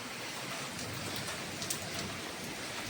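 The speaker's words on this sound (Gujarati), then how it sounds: "બરાબરનો વરસાદ ચાલુ થઈ ગયો" Heavy rain pours down steadily and loudly, a dense constant hiss of drops hitting surfaces close by, with no voices heard.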